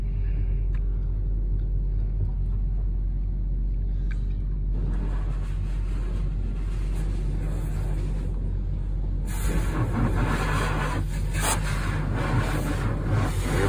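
A car rolls through an automatic car wash in Cedar Grove, Kentucky, heard from inside as a steady low rumble that gives way to rising hissing spray and brushing, growing louder and busier toward the end, with no talk.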